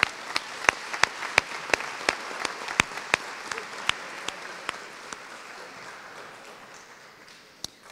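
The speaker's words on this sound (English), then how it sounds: "let's give them another round of applause" A school staff awards audience claps for honored classified employees. A few sharp, distinct claps stand out near the front over a wider crowd's applause, which thins and fades out toward the end.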